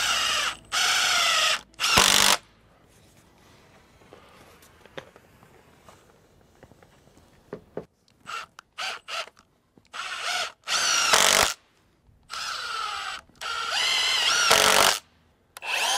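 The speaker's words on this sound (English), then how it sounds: "we're gonna use screws, go under this top plate into our 2x4 rafter" A power drill drives screws up under a top plate into a 2x4 rafter on a greenhouse framed with 2x4s and recycled windows. Loud whirring bursts of a second or two repeat with short pauses, close to the listener.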